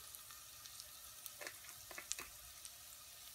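Cumin sizzles as it blooms in hot oil for a chilli, a soft steady frying hiss with a few sharp pops and crackles scattered through, close and quiet.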